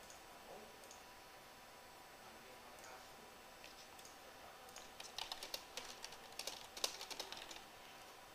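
Keys clatter on a computer keyboard in a short burst of quick, quiet taps after a near-silent stretch, heard close in a quiet room.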